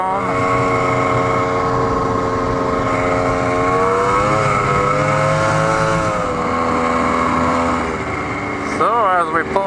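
A snowmobile sled pulling into a backyard on a frozen-lake ride, its engine a loud close droning whine that shifts pitch as it slows and turns, ending with a brief rev.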